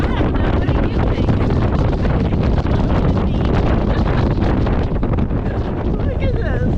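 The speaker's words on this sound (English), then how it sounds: "it's still blowing 25 knots" Strong wind of about 25 knots buffets the microphone aboard a Nordhavn 55 motor yacht at sea on a winter Inside Passage run, a loud, constant roaring rush with no break.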